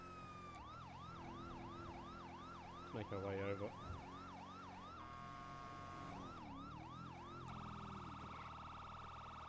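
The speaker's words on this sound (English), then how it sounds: "They were vanilla sirens as well that we were using." A wailing video game police siren sweeps up and down steadily, with a brief burst of other tones partway through and a short spoken remark.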